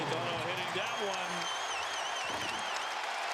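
A basketball arena crowd roars in a dense, continuous wash of cheering and whistles at the very end of a 2019-20 ACC men's game between Virginia Tech and Louisville, with voices audible through the din.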